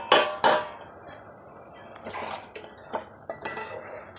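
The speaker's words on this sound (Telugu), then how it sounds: "ఇప్పుడు మూత పెట్టేసుకోవాలి." A lid goes onto a cooking pot of jackfruit seed curry: two sharp metallic clanks up front, then several lighter knocks and scrapes of metal on metal, close and clear.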